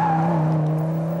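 A 2000s Audi RS6 C6 estate with 420 mm ceramic brakes stops hard, giving a loud, steady tonal squeal and hum that fades slightly over about a second, with no voices.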